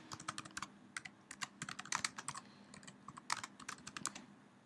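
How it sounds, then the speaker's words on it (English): Someone types on a computer keyboard alone in a quiet room, with quick irregular bursts of light clicking keystrokes that pause briefly and then resume. "I'm going to type in the name Teamster here."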